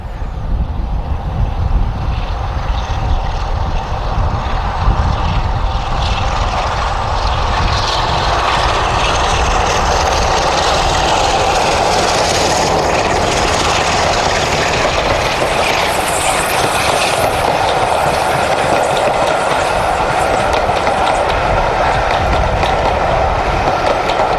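Diesel locomotive D182, formerly 46045, departing at a heritage railway diesel gala, its loud engine roaring steadily close by for the whole stretch, a broad dense rumble with no voices.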